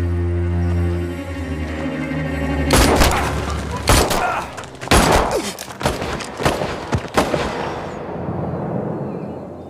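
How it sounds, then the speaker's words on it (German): Gunfire in a German TV crime drama: a low hum gives way to several sharp, loud bangs and crackling bursts in quick succession, then fades into a quieter rumble. "Ein Jogger hat 2 Schüsse in den Rücken gekriegt"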